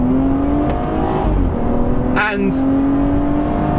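A BMW 340i engine rises in pitch during a manual downshift, loud and continuous, with a brief sharp rev blip partway through and a voice speaking briefly over it.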